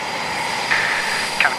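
A Eurofighter Typhoon fighter jet's engines run after start-up, a steady loud whine and rumble with a high tonal note, while a voice briefly talks over it.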